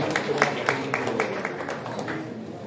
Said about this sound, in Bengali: করতালির মাধ্যমে স্বাগত জানাবো